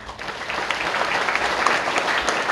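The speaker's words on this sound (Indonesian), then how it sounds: "Tepuk tangan untuk kita lagi." Junior high students at SMP N 2 Purworejo applauding together during a character-education talk, a dense, steady burst of clapping from a large group that runs the whole time.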